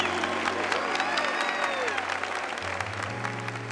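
Applause from a church congregation, a full crowd of clapping hands sounding continuously with some singing or voices blended through it.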